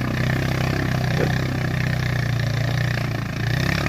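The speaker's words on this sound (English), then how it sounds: "Brandon's new Foreman TRX 450. He's got to fix the exhaust on it" Honda Foreman TRX 450 ATV with a damaged exhaust idling close by, a steady low rumbling drone that holds even and continuous throughout.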